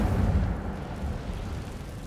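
An Incendio fire spell cast in Hogwarts Legacy bursts with a deep whooshing roar that fades over about two seconds, loud and low, with no voices over it.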